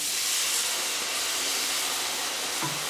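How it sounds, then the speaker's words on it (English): Wine poured into a hot pan of cooked flour for a pork loin dish, giving a loud, steady bright sizzle and hiss that persists for the whole moment, with no talking. "Now I want to add in the wine."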